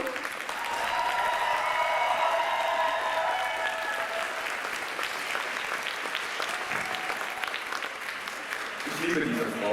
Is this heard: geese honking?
no